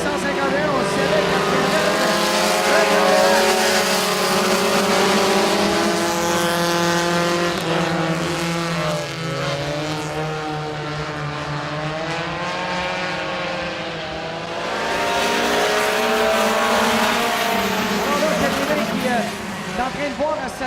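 Race cars at a St-Guillaume racing final sweep past on the track in a continuous loud stream, engines droning and shifting pitch as several cars go by close together.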